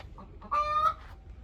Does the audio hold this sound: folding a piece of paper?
no